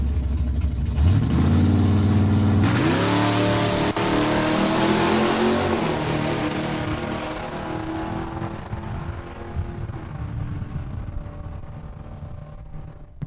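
A Street Legal class drag racing car at Saskatchewan International Raceway launches hard down the quarter mile, its engine roaring loud and close, climbing through gear changes, then gradually fading into the distance.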